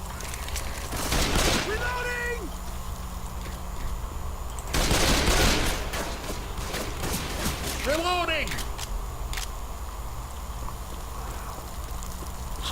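Auto shotgun fire in the zombie shooter game Left 4 Dead 2 on the Hive map, with two loud bursts of blasts a few seconds apart, over game ambience, while people talk.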